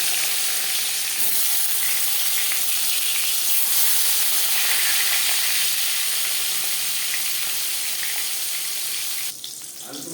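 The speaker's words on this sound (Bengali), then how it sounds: "পাঁচ চামচ রিফাইন্ড অয়েল গরম করে নিয়েছি এবার দিয়ে দেবো ম্যারিনেট করে রাখা মাছ" Marinated koi fish frying in hot refined oil gives a loud, steady sizzle that holds for most of the ten seconds, then eases off slightly near the end. No one speaks.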